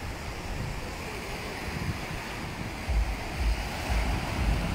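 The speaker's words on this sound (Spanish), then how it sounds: "el oleaje es un poco más fuerte. Pero igual, vea nada más." Surf rolls steadily onto a beach in Cancún. The waves wash in continuously, with a few heavier breaks toward the end, and wind buffets the microphone throughout.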